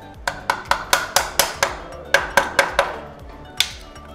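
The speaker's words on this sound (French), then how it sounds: "je vais commencer à utiliser un tournevis plat ou un cutter, et je vais venir enlever le premier cache" A flat screwdriver taps and clicks against the plastic cover of a Xiaomi device, a quick series of sharp close knocks in uneven bursts, with no talk.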